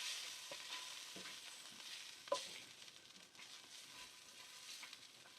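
Soft, steady sizzling of perogies frying in a hot pan, with a few light clinks and stirring sounds, fairly faint and close.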